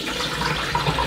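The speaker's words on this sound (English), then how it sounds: "allow the water to empty from the machine" Water draining out of a Tefal Washboy portable washing machine, a continuous close gushing and gurgling flow that stays steady throughout.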